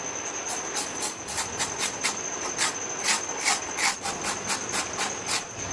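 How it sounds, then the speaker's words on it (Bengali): A knife finely shreds cabbage for crispy fritters, producing a fast, regular series of crisp slicing strokes. The bright, repeated cuts sound close and steady over a continuous rustling background. "তো এখন আমি ঝিরিঝিরি করে কেটে নেবো"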